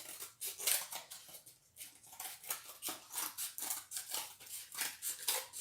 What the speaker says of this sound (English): Cut the square and then just take the corners off.